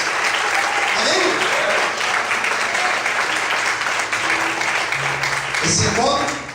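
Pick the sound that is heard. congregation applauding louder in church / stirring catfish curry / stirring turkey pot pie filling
congregation applauding louder in church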